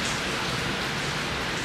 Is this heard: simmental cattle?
no